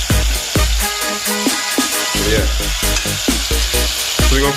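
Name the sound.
chicken pieces frying in oil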